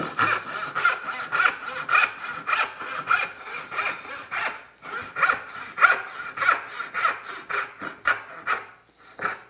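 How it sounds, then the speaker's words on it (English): A hand saw cuts a dovetail kerf in wood for a houndstooth dovetail joint, loud close rasping strokes in a steady back-and-forth rhythm with a brief pause midway. "Set this saw right in that kerf."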